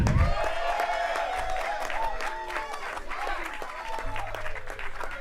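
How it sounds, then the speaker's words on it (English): Crowd applause at a Hollywood Walk of Fame ceremony, steady dense clapping and some cheers from a large outdoor gathering, continuing throughout with faint voices and music-like tones mixed in. "let's give a round of applause for actor Tyrese Gibson,"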